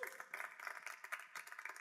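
A church congregation claps for Jesus during a sermon, a faint, close patter of rhythmic hand claps lasting a couple of seconds with a voice mixed in.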